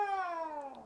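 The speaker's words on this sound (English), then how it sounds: "You're making the cat cry." A cat meows in one long, drawn-out cry with a slowly falling pitch, close and fairly clear with no talk over it, heard during a League of Legends ARAM game session.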